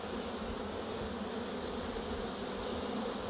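Honey bees on a foraging flight buzz steadily around a Miniplus hive, a dense, continuous hum of many insects with occasional individual bees whizzing past nearby.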